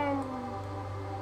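A cat meows in the flash game The Scale of the Universe 2: a single short, tonal mew that slides downward in pitch, clear and close against a faint hum.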